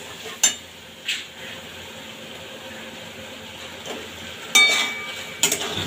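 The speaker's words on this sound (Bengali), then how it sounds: "সামান্য পরিমাণে একটু জল দেবো, যেহেতু হলুদটা দিয়েছি তাই। দিয়ে ভালোভাবে মিশিয়ে নেব।" A spoon stirs a pot of curry with pumpkin, stems, turmeric and a little added water, giving a few sharp metallic clinks against the pot over a faint, steady simmer.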